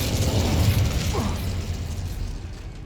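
An Incendio fire spell in Hogwarts Legacy, a close, loud whooshing fire blast with a rumbling low body and mechanical clatter, fading toward the end.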